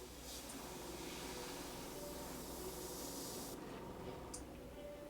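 Airbrush spraying overly thin paint, a steady broadband hiss of air and atomized paint that runs continuously and close, with a slight change in tone partway through and no talking.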